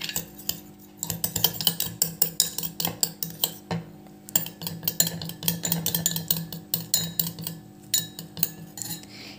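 Metal spoon stirring and scraping turmeric and Fair & Lovely cream into a paste in a bowl, a steady run of close, busy clinks and scrapes against the bowl with a brief pause partway through.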